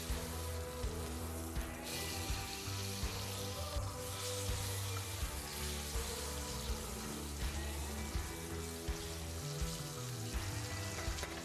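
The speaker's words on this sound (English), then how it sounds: "Start off by searing the fat cap for 30 seconds. Swirl it around the butter to coat it." Steak sears in a pan of butter and tallow, its fat cap pressed into the hot fat, giving a loud, steady, close sizzle that runs unbroken throughout.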